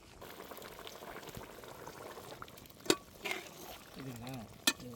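A pot of Tamil-style milk shark head fish curry simmering on the stove, giving a soft steady bubbling with a few brief clinks and stirring sounds, and coriander leaves have just gone in; a faint voice murmurs in the background.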